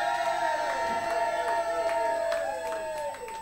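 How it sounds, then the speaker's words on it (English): An audience at a band's gig breaks into applause and cheering, crowd noise with shouts and whoops over ringing, sustained music tones, loud and continuous before fading slightly at the end. "give him a massive round of applause"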